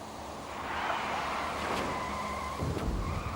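Cars and lorries colliding in a motorway pile-up, a dense roar of traffic with skidding tyres and a harsh impact burst near the end, no talk.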